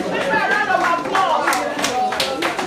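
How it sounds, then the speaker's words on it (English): An audience applauds at an event, a steady wash of many hands clapping at close range, with scattered louder claps and faint chatter mixed in. "A round of applause"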